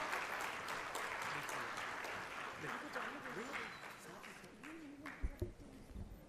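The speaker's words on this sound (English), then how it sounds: "I request all the audience to please give a loud applause to our chief guest" Audience applause for a chief guest at a university health sciences research conclave, a steady wash of clapping throughout with voices murmuring underneath and a couple of louder thumps near the end.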